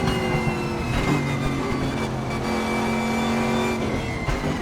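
A Koenigsegg hypercar in a sim racing game roars at high revs as it opens up toward a long straight, a loud sustained engine whine with a slight pitch dip and recovery between shifts, heard alone without talk.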